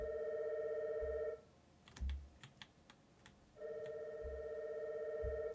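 A telephone rings in a video game in two bursts of steady electronic ringing, with a quieter gap of soft footsteps and small clicks between them.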